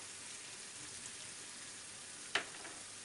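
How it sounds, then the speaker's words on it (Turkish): Garlic sautéing in a pan gives a faint, steady sizzle with one brief sharp click partway through. "Şimdi biraz da sarımsağımı kavuracağım."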